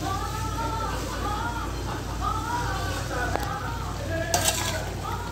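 Chicken adobo sizzles and fries in a pan as sugar is stirred in, with a constant crackling hiss, scraping stir strokes and a voice speaking over it.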